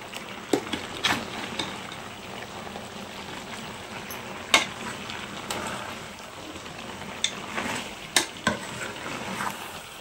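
Masala with ginger paste and coriander powder stirs and fries in a pan for a chicken dish, a soft steady sizzle with occasional sharp clinks and scrapes of the spoon against the vessel.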